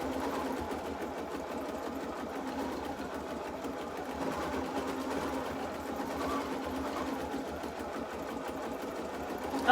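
An embroidery machine stitches out a design in a steady, continuous mechanical whir with a fast needle rhythm, moderately close and running alone without talk.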